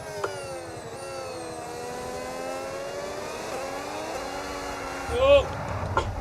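An F1 25 video game race car engine hums with steady, rising tonal harmonics, then a brief louder revving burst near the end.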